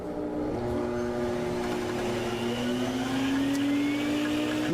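A SIRENA water-filter vacuum cleaner runs with a loud, steady motor whine whose pitch climbs gradually as it spins up, with a constant airy rush underneath.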